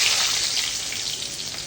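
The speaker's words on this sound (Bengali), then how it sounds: "এবার আমি দিয়ে দেব হচ্ছে পেঁয়াজ" Onions tipped into hot oil in a kadai along with garam masala, giving a bright, steady frying hiss that stays loud and even throughout, with no one speaking.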